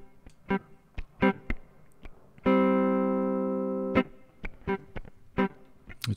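Solo electric guitar playing short plucked notes, then one long sustained chord ringing for over a second before more quick plucks follow.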